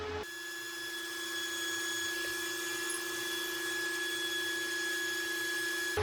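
A Peltier-cooled water cooler runs noisily with a steady electrical hum and a constant high whine, close and unbroken.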